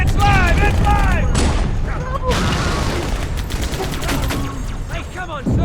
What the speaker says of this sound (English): Grenade! It's live! It's live!